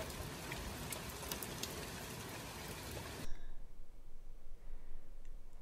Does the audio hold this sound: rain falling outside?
yes